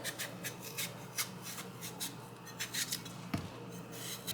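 A vegetable peeler scrapes along a cucumber in a series of short, crisp rasping strokes, close and fairly quiet, repeating at an uneven rhythm with no talking.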